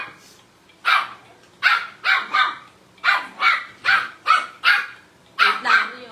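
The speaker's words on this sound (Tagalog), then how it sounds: "sobrang ingay nung dog kasi nandito sa baba" A dog barks indoors from the floor below, about ten loud, sharp barks in uneven bursts, some coming in quick pairs.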